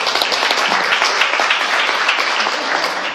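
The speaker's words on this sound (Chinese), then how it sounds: "以各位这种掌声" A lecture audience bursts into loud, dense applause, with many hands clapping close and steadily for the whole stretch.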